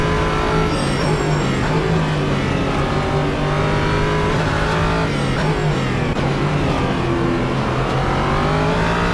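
Close, continuous engine roar from an LMP3 prototype race car in Assetto Corsa, pitch sweeping up and down with repeated gear shifts and throttle changes, no voices.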